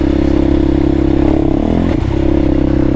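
Loud, close ATV quad four-wheeler engine running with a steady throbbing idle and a brief rev partway through, alone with no talking.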